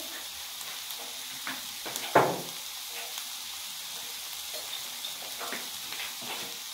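Potatoes and minced meat frying in a pan give a soft, steady sizzle, with one sharp utensil scrape partway through and light stirring clatter afterward.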